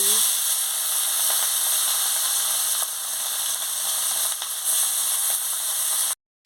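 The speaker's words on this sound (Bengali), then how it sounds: "আমি তেলটা দিয়ে দিচ্ছি গরম হয়ে গেছে আমি মাছটা দিয়ে দিচ্ছি" Murla fish fries in hot oil in a kadai. The bright hiss of sizzling stays loud and close, holds steady for about six seconds, then cuts off abruptly.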